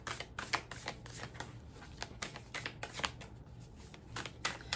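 An oracle card deck, Nature's Whispers, is shuffled by hand in quick, crisp riffling bursts that come in an uneven rhythm, close and fairly soft, with no talking.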